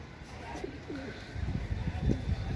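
A female Kaldoma pigeon coos softly nearby, giving a few low rounded coo notes over faint background rustling and handling noise, with no clear talking.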